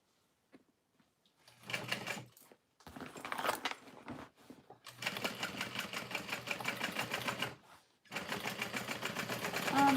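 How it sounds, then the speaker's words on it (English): Sewing machine topstitching around the top of a tote bag with a long stitch length, running in close, steady mechanical bursts separated by short pauses. "I'm switching my stitch length to a 5 to sew around the top of this bag"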